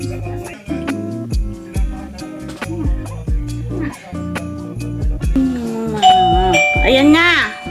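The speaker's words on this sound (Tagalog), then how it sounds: "May nag-doorbell na." A doorbell chimes in a rapid series of repeated tonal rings, loud and close, followed by a person speaking over the later tones.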